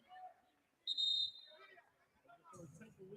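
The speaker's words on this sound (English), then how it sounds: "A whistle." A referee's whistle sounds once, sharp and steady for about a third of a second, during a college basketball game between ODU and Coastal Carolina, heard over crowd murmur and a commentator's voice.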